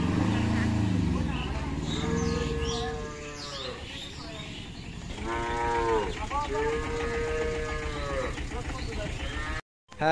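Calves and cattle mooing in a Bangladeshi village where calves are being loaded onto vehicles, several drawn-out low bellows overlapping one another at moderate distance, with people talking throughout.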